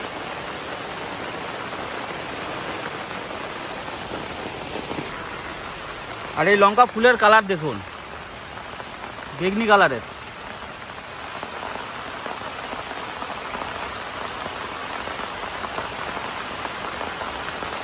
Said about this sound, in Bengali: চারিদিকে ঝমঝম করে বৃষ্টি, শব্দ দেখুন বৃষ্টি